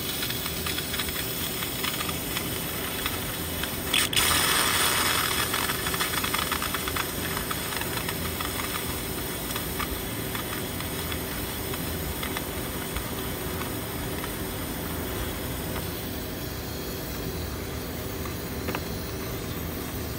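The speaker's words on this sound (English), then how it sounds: "it's steaming from the cylinder head right there" Steam hisses steadily from the cylinder head of a blown Volkswagen 2.0 litre engine, a continuous broadband rush with a louder surge a few seconds in, then a sustained even hiss with no voices.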